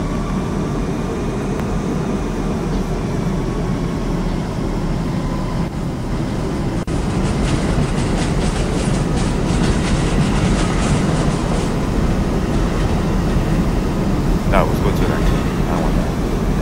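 Los Angeles metro subway train running in a train simulator game, a continuous rolling rumble with rail clatter and occasional squeals, heard loud and close throughout.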